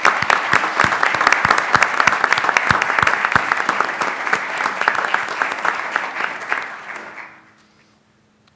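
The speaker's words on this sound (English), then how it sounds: "join me in a round of applause to thank our staff and our volunteers" A crowd at an annual town meeting in Williston applauds, loud sustained clapping from many hands that carries on evenly for about seven seconds before tapering off quickly into silence.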